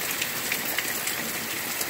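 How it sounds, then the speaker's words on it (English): Heavy rain pours steadily during a storm in Pekin, Illinois, a dense, even hiss of drops striking surfaces nearby, with no voices. "It's raining this hard and it's moving way east from us."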